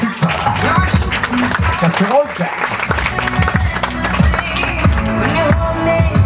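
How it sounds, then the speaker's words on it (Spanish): Guests at a quinceañera celebration applaud, their clapping spreading through the room beneath music and scattered voices and cheers, with people talking over the crowd the whole time. "un fuerte aplauso para todos los que están presentes"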